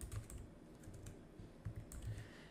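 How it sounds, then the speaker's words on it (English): Typing on a computer keyboard while writing an Oracle SQL query, quiet close clicks of keys in quick irregular bursts with no talking. "I will separate my columns with a comma, and then I'll type last name"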